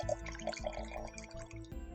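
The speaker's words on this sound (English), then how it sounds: "let me just pour some more here" Red wine poured into a glass close by, a short gurgling trickle with a few bright drips and splashes over about two seconds, no voices heard.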